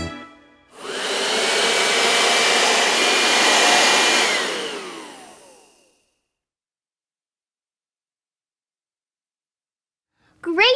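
A child imitates a vacuum cleaner with the voice, a loud, breathy, sustained whooshing hum lasting about five seconds that fades out, followed by silence and then a brief adult voice at the very end.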